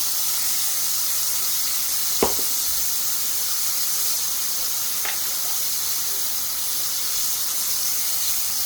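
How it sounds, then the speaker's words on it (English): Onions sauté in a hot pan for sweet and sour chicken, giving a steady hiss and sizzle with a couple of brief sharp squeaks, no talking. "I'm going to add a handful of these onions in here."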